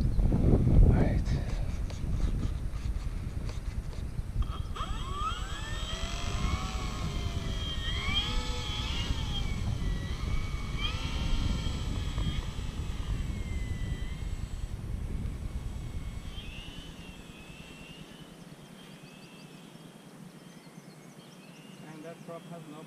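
An FMS F4U Corsair RC model plane fitted with the motor from an FMS P-40 buzzes overhead in passes, its electric whine rising and falling, while people talk nearby; the motor sound fades out toward the end.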